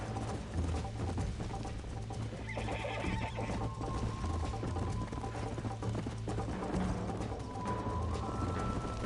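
A horse in Red Dead Redemption whinnies loudly while its hooves clip-clop in a steady rhythm, with faint game mechanism clicks in the background.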